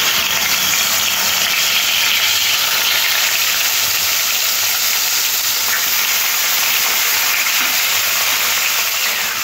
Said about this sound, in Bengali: মাছগুলো এপিট ওপিট করে লাল লাল করে ভেজে নিচ্ছি